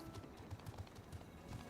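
Hooves of a lightning horse mount in Final Fantasy XIV Heavensward, a faint irregular clip-clop of soft thuds across a short stretch, heard alone without talk.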